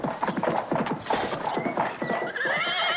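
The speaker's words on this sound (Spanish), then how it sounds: "¡Arre, caballo!" A cart horse neighs loudly and whinnies while its hooves clip-clop in a quick, steady rhythm close by, with a faint creak of the cart and no voices.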